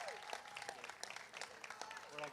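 Spectators at a pickleball championship applaud a bronze medalist, a quiet, distant patter of clapping with some speech and voices over it.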